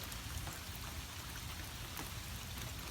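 Steady rain falling and pattering on outdoor surfaces after a huge storm in Pennsylvania, a dense even wash of drops with no voices.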